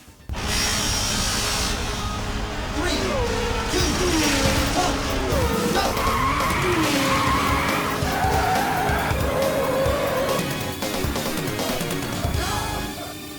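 Early 3D arcade racing game Virtua Racing by Sega AM2, with engines droning and tires skidding continuously, layered with game music and effects, loud and steady throughout.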